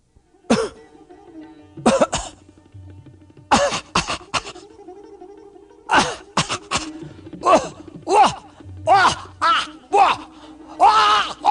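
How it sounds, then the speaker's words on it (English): Performed as a story sound effect, a demon coughs and chokes in a run of harsh, gasping bursts with groaning throat sounds in uneven rhythm, close and loud, the voice acting out the choking. "Agasura demon coughed and choked."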